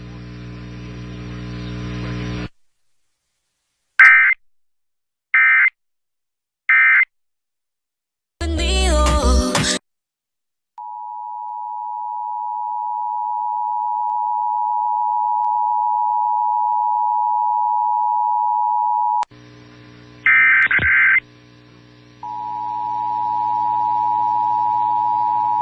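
Emergency Alert System monthly test for the San Diego area: a noisy burst, three short data-like beeps, a harsh static burst, then a long steady sine attention tone, another beep burst and the tone resuming, all loud and without speech.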